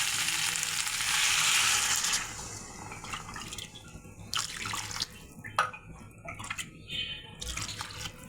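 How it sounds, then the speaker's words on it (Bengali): Hot water poured into a pan of cooking duck curry with ground spice paste, a loud rushing pour for about two seconds, then bubbling, crackling and scattered drips and clatter as it settles. "গরম জল দিয়ে দেবো।"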